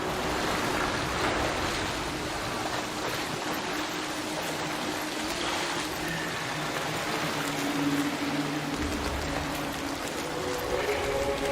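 Steady roaring rush of falling water from a waterfall in a Souls-like video game, a broad continuous wash of noise that stays loud and unbroken throughout with no talk.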